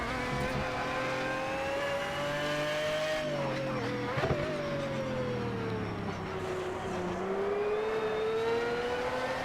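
An Aston Martin race car engine in the racing game Project CARS drones steadily at high revs, its pitch dipping and climbing through gear changes and throttle lifts, loud and close throughout with no talk.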